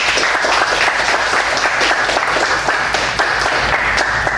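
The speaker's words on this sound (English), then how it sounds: "So please welcome him with a warm applause" A conference audience gives a loud, warm round of applause to welcome a speaker to a talk on UX and emerging technologies; dense, sustained clapping from many hands close by, steady throughout with no speech.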